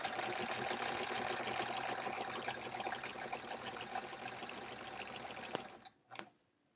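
A sewing machine runs steadily while quilting horizontal lines on a sampler quilt, its fast needle rhythm continuous and close, then it stops near the end and a brief knock follows.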